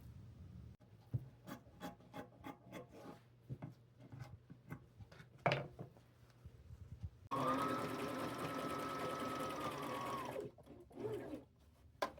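A sewing machine stitches a pair of pants being made over into boho style, giving a run of quick rhythmic clicks and then a steady, close, continuous mechanical whir for several seconds.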